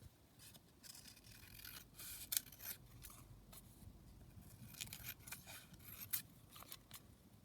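Scissors cut around a craft piece with a run of soft, repeated snipping and rustling close by at low volume, irregular in rhythm, with no talking.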